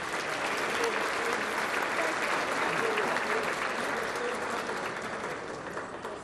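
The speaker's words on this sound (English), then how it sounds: "So a round of applause for them before we begin." An audience at a hall of fame ceremony applauds in a steady, dense wash of clapping that fades slightly toward the end.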